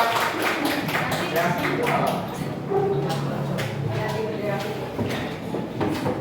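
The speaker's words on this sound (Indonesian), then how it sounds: "Beri tepuk tangan untuk kelompok sangat ya" Students in a school classroom applaud a presenting group, a dense, steady patter of many hands clapping through the clip, with murmured voices underneath.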